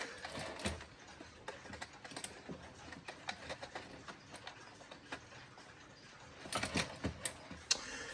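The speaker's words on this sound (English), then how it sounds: "And then we have this alarm clock." Alarm clock adjusted by hand, with quiet, quick ratcheting clicks and small gear-wheel ticks turning in bursts at close range, and a denser cluster of clicks near the end.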